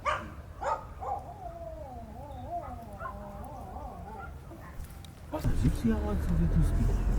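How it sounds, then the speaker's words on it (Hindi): A dog gives a few short barks and yips at the start. Then comes a long, wavering whine-like vocalization, and after that louder barking and commotion. A person talks through much of it. "सुनिए आवाज़ जो अभी लास्ट कुत्ते ने बोला है कुछ"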